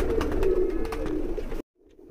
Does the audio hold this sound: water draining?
no